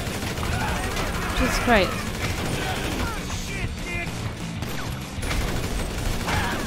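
Gunfire in the video game Grand Theft Auto 5, steady crackle of shots running under excited talk throughout, with a louder burst near the middle.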